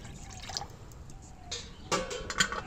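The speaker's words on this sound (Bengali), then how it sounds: "এবার মোমোটা স্টিম করার জন্য জল দিয়ে দেবো।" Water is poured into a pot for steaming veg momos, giving soft splashes and trickles that grow stronger toward the end, quiet and close with no talk.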